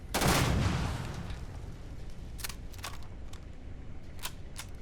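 Gunfire in the video game Starfield: a loud burst at the start that decays into a rumbling tail, followed by several sharp, fainter single shots spaced irregularly across the rest of the clip.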